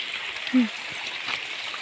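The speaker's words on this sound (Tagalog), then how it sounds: "Oh, ang lakas na tubig mga idol, oh, lakas oh." Steady rushing water of a strong stream at a waterfall flowing continuously, with a brief voice exclaiming over it.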